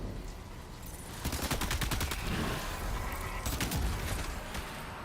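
Rapid bursts of assault rifle fire in the video game Death Stranding 2, two sustained volleys of loud, closely spaced shots over a constant background rumble.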